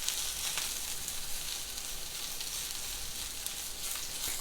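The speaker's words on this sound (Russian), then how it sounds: "Грибы жарятся быстро, вы сами знаете, что шампиньончики быстро жарятся." Champignon mushrooms fry in hot oil in a pan, giving a steady, even sizzle that holds at a constant level throughout with no voices.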